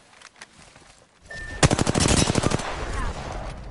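Rapid automatic gunfire in the battle royale game Apex Legends, a loud burst of evenly spaced shots that starts abruptly and runs for about a second before trailing into noisy game ambience.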